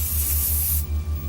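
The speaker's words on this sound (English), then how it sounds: "pulled out my pepper spray, and started spraying like crazy." Pepper spray discharged in a hard, continuous hiss that runs for most of a second and then cuts off abruptly, close and loud, with no voices.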